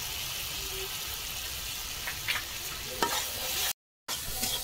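Tadka masala sizzles in a hot pan, giving a steady, soft frying hiss with a few brief stirring scrapes, then a short cut to silence before the sizzle resumes.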